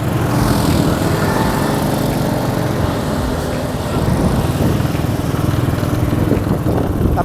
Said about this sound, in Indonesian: Banyak motor sore-sore.